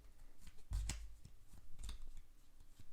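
Playing cards being messily mixed in a Russian shuffle, with soft scattered slaps and riffling bursts, a couple of louder snaps near the start, quiet and close.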